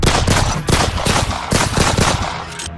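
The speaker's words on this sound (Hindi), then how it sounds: "चारों ओर वातावरण में गूंज उठा था गोलियों का धमाका" Rapid bursts of machine-gun fire crackle loudly and densely, volley after volley for nearly three seconds, with no voices over it, as a battle effect on a mountain pass in a Manoj Comics audio story.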